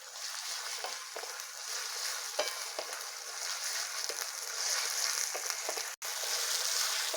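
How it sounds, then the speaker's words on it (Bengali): Ginger and garlic paste frying in a pan for a Golbari-style mutton kosha, a steady broadband sizzle with soft stirring scrapes throughout, close and continuous, no talking. "আদা রসুনটা ভালো করে ভেজে নেব।"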